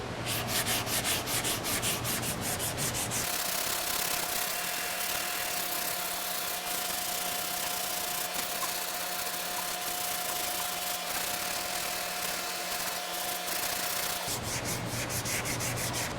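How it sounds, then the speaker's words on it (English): Body filler on a rust and dent repair is sanded with 180 grit sandpaper, a loud, close, continuous rasping scrub, steady for long stretches with brief changes in stroke. "Now I'm also going to start off with 180"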